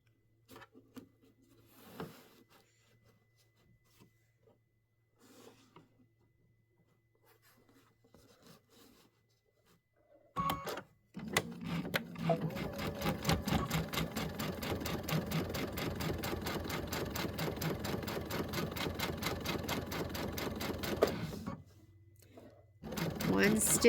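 A sewing machine stitches a quilted piece top to bottom in a long, even, rapid run, preceded by faint handling noises and ending with a brief pause and restart.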